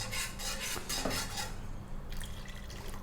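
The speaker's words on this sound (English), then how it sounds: "Let me mix this for a little bit." A spoon stirs a cornstarch-thickened chicken sauce in a pan over low heat, giving a close run of scraping and clinking against the metal and then a softer liquid swish.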